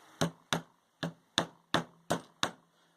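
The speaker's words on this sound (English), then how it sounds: "and then just hammer on the screws, and voila, you have marks there" A hammer strikes screws to mark drill holes while building a rotary tool router table, seven sharp, close taps in an uneven rhythm, each with a short decay.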